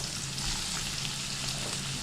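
Chopped large onion sizzles in hot oil in a pan, a steady close crackling hiss with no voices, while cooking eggplant thokku.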